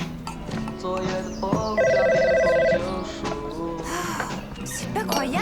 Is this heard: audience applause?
no